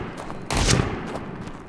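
Enemy gunfire in a video game erupts in a sudden loud burst of shots, then trails off into fainter scattered cracks and echoes.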